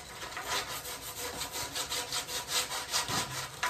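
Sandpaper scrubbed back and forth on a part for a DIY roof rack shower, a close, rhythmic rasping with about a dozen even strokes and no talk.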